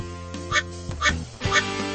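Three bright rubber-ducky quacks from a Blaze and the Monster Machines speedway game, spaced evenly over a steady background of game music, each one loud and close.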